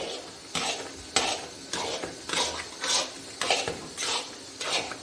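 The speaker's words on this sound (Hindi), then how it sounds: "चमचे को मुसलसल बस चलाते हैं ताकि नीचे ये लगे ना" Spoon stirring carrot halwa made with desi ghee in a pot, a run of rhythmic scraping strokes roughly every half second, close and fairly quiet, with no talking.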